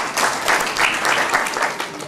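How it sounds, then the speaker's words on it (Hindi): A crowd at a BSP election campaign rally in Shamli claps and cheers in a dense, steady burst of applause lasting about two seconds. "इन सभी के लिए आप जोरदार तालियां बजाएं।"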